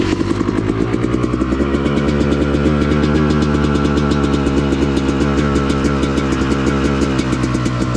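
A Yamaha YZ dirt bike on a wooded trail revs hard and close, its rapid buzzing engine pulses rising and holding loud and steady throughout, with no talk over it.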